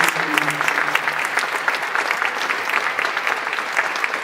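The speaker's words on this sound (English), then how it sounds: "I would just really like to applaud all of them right now because of the work they're doing" An audience at a Red Tie Affair gala gives a steady round of applause for the organization's HIV/AIDS staff, dense clapping holding evenly for several seconds.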